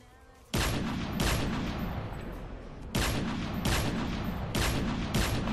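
Gunfire in the Strucid battle royale video game: loud, sharp bursts of shots break out repeatedly, each leaving a sustained, crackling roar between volleys, with no talking.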